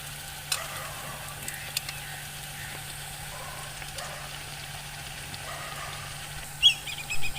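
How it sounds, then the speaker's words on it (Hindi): Pieces of sweet dough (meethay tikray) fry in a pan with a steady, soft sizzle. A few light clinks come through, and a brief louder scrape of stirring sounds near the end. "अब ये फ्राई हो चुके हैं"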